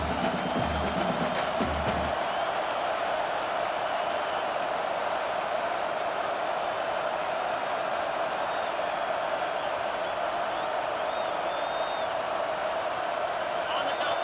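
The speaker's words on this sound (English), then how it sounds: "This crowd busting the decibel meter and trying to will a 4th down stop." A loud stadium crowd roars steadily in EA Sports College Football 25, a dense sustained wall of cheering for a fourth-down stop, with a brief burst of other sound at the start.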